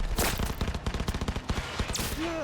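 Rapid bursts of automatic gunfire and fusillades from combat in the Cyberpunk video game, dense and loud, with volleys crackling in close succession and a brief tonal beep near the end.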